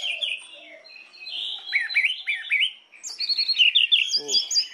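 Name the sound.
orange-headed thrush (anis merah) chirping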